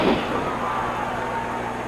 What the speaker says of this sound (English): The crowd hollering one more time